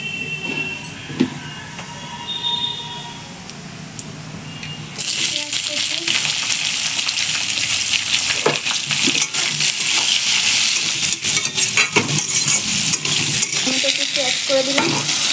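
Whole garam masala, dried red chillies, bay leaves and cumin seeds hit hot oil for a chicken kosha, bursting into a loud, steady, crackling sizzle that starts abruptly after a few quieter seconds and continues.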